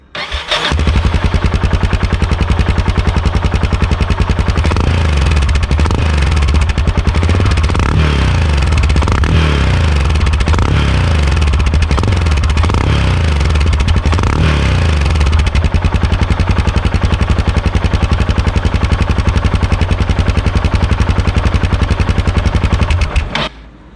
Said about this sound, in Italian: Direi che questo scarico GPR suona veramente bene